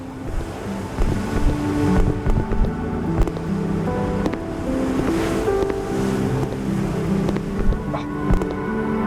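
Sea waves surge and wash around a listing, sinking passenger ferry in a video game, with gusting wind buffeting the microphone and a continuous roar of churning water.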